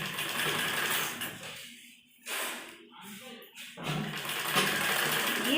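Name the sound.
sewing machine stitching a blouse seam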